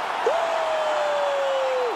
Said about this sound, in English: Crowd is absolutely loving it.